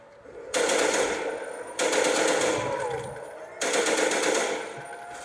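Automatic gunfire from a Call of Duty Black Ops game match, three long sustained bursts of rapid fire, loud and close, separated by brief gaps, with no talking.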